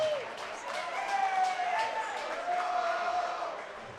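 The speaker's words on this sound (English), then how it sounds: "Let's give these guys a big round of applause" Applause and crowd noise from an audience at an MMA championship event, sustained for several seconds with voices mixed in at a moderate distance.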